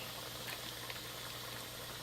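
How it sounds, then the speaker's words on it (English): Steady, faint sizzling and bubbling of buttermilk-battered chicken frying in a pan, a constant hiss with no talking. "And then we're putting that into the frying pan."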